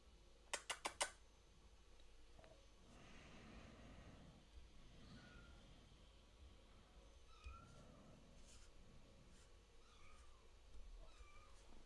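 A cat meows several times at a distance in a room, faint and drawn-out calls spread across the stretch, after a brief burst of sharp clicks near the start.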